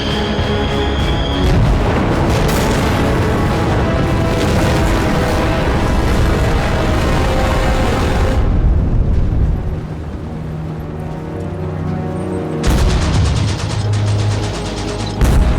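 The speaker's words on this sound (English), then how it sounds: "and he started dropping bombs." Bombs burst during the Battle of El Alamein, loud rumbling explosions and booms piling into a dense, continuous barrage, with a short lull before another heavy blast.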